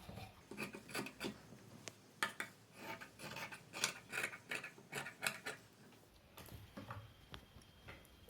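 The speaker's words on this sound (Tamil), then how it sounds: "இந்த எக்ஸ்ட்ரா இருக்க பீஸை கட் பண்ணி விட்டுறணும்." Scissors snip and rub through extra blouse fabric in a rapid run of close, small cuts, then a brief pause and a few final snips, fairly faint and with no speech.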